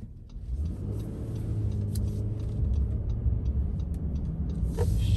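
A 2022 Honda Ridgeline pickup with a 9-speed automatic, heard from inside as it drives and brakes: a steady low engine and road rumble that swells slightly over the seconds, with no talking.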